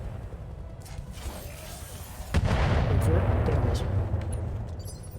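Grenade launcher rounds fired in standard mode burst in a mercenary raid on a clan resort in a video game, a deep rumbling blast swelling suddenly midway and rolling on with low thunder before slowly fading.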